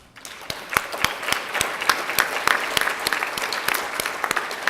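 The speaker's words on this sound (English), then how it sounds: "please give them a big round of applause" An audience at an alumni excellence award ceremony claps for the board members, a sustained round of applause with sharp, dense claps that swells after a quiet start and holds steady.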